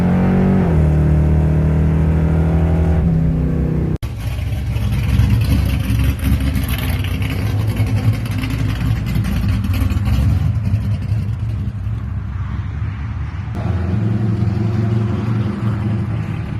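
Ford Torino fitted with a 427 engine, revving at idle before a sharp cut, then roaring continuously under hard acceleration, loud and close, with engine note shifting as the car pulls.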